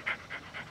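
A dog pants in three soft, evenly spaced breaths over a low background hum, faint and with no one talking.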